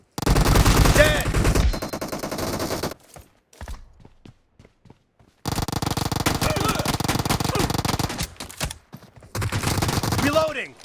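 Team deathmatch gunfire in a shooting video game, long loud bursts of rapid automatic fire broken by short pauses and a few scattered single shots, all close and dominant.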